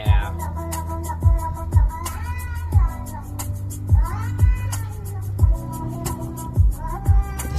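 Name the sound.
cat meowing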